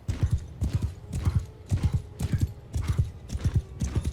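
Horses' hooves clip-clop in a steady, repeating rhythm as cavalry moves forward in Mount & Blade II Bannerlord, loud and close, with a faint whinny and no talk over it.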